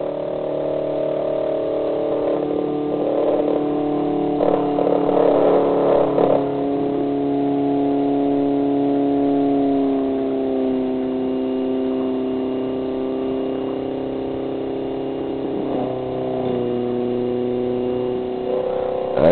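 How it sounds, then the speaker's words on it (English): Small electric motor with a rotor spinning past a run coil, its steady whirring hum gradually dropping in pitch as the rotor slows after being touched while lighting an LED; continuous and close, with no voices. "Accidentally touched the rotor, but you can see it, you can hear it slow down as it lights the LED."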